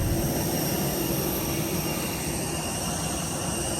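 Steady, loud roar of an airplane engine with a broad rumbling drone, heard from inside the aircraft, continuous and unchanging throughout.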